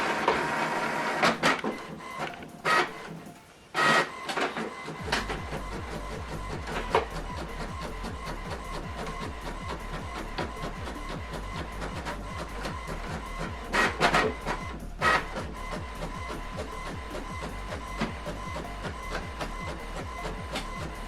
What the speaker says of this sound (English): Now this document is printing.